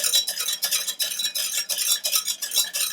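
Chickpeas are stirred into a thickened sauce in a pot, giving a rhythmic series of close, wet scraping strokes with no speech.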